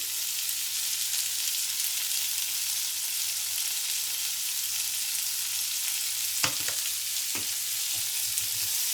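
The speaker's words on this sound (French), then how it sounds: "Et je mélange bien mon assaisonnement." Chickpeas and chorizo with salt and paprika seasoning sizzle steadily in a pan. Near the end, a spoon stirs them with a few distinct scraping knocks and clunks, and no one speaks.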